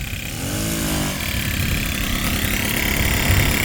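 A moped engine runs close by and steady, a buzzy mid-pitched idle with a brief rising whine early on as the throttle is twisted, then holding level to the end.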